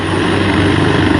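A rescue helicopter flying over the chairlift site in Battagram, its steady loud rotor and engine drone filling the brief stretch with no voices.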